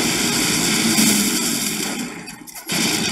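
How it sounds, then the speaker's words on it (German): A propeller airplane engine drones in the Fortnite video game, a loud steady roar that dips briefly before returning at full strength. "Doch, ein Flugzeug."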